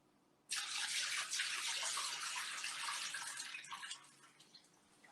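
Water from draining mozzarella curds pours out in a loud, steady splashing gush that starts abruptly and runs for several seconds before tapering off, with no talk over it.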